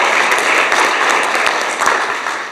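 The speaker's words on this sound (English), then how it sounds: "So give yourselves a quick round of applause for everything you guys do." A breakfast crowd at a chamber of commerce event gives a brief round of applause, with loud, dense clapping throughout that tapers slightly at the end.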